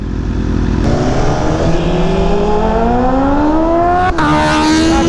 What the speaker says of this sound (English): We put on the full Vandemon exhaust system on the H2. It sounds much better now.